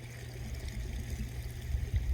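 An aerator bubbles under a pond's partly frozen surface on a freezing day, making a steady low churning rumble of water, continuous and moderately loud, growing slightly stronger toward the end.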